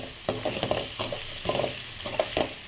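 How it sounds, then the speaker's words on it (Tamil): A spoon stirs radish sambar in a pan, scraping in quick, uneven strokes about twice a second over a soft simmering sizzle. The sound is close and fairly quiet. "இப்போ நல்லா கிளறி விட்டுக்கணும்."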